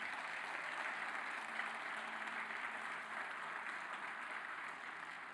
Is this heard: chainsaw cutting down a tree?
no